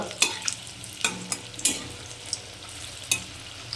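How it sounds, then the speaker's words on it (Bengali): Egg fritters (bora) fry in hot oil in a pan, a steady close sizzle broken by a few sharp spatula scrapes and taps while they are stirred. No one speaks. "বড়াগুলো লাল লাল করে একটু ভেজে নেবো আমি"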